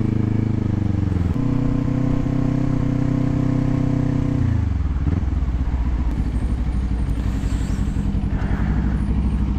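A Kawasaki Ninja 400 on Shinko Verge 2X tires cruises an expressway, its steady, close engine drone carried under wind noise before the revs sink noticeably and settle lower.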